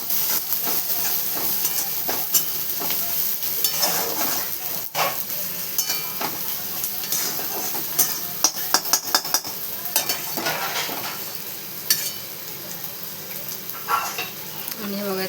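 Turmeric and salt stirred into a pan for dried shrimp chutney, with steady scraping of the spoon and soft frying sizzle, and occasional sharp utensil clinks throughout.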